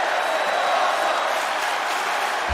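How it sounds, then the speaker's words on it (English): A wrestling crowd at an XFW event roars in a dense, continuous wash of voices and applause, steady and loud throughout, with individual chant words not distinct. "The crowd now with the "This is awesome" chant."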